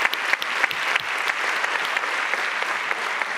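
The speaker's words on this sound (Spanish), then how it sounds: "un aplauso muy fuerte, por favor, para nuestros ponentes tan excelentes de esta sesión" Audience applause for the speakers of a plenary conference session, a steady dense clapping from a large crowd that holds throughout with no talk over it.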